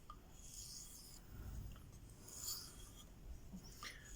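A knife is drawn across a Venev diamond sharpening stone to remove the burr, soft quiet rasping strokes repeating close by at an uneven pace.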